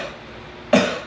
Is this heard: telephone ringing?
no